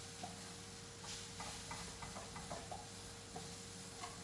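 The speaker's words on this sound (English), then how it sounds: "kale sauteed" Kale sautéing in a pan makes a steady sizzle and hiss, broken by soft stirring scrapes and clicks throughout.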